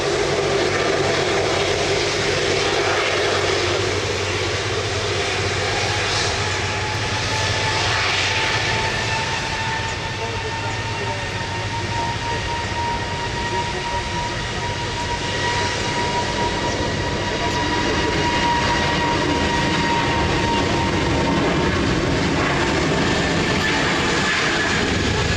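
Airliner taking off from runway 20 at Lisbon Airport, a loud, sustained jet engine roar with a rising whine that holds steady throughout, heard alone without talk.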